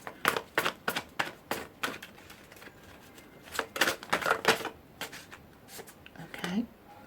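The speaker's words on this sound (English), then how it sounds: "I'm going to shuffle again" Tarot cards are shuffled in quick bursts of crisp riffling snaps and flicks, close by, grouped into clusters with short pauses between, with a faint voice now and then.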